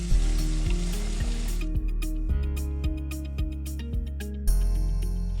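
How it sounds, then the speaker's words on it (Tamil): Ground paste goes into a pan of sautéed tomatoes for a millet idli sambar and hits hot oil with a steady sizzle, punctuated by a series of sharp, regular clinks and taps. "இப்போ தக்காளி நல்லா வதங்கிருச்சு. நம்ம இந்த அரைச்சி வச்சுருக்கிறத ஊற்றலாம்."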